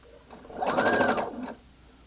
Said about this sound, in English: And your right sides are together, and you're sewing all the way around.